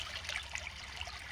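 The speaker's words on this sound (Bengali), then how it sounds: "একটু জল দিয়ে দাও, পরিষ্কার জল দাও" Clean water pours in a soft, continuous trickle during night fishing with a net, quiet and close.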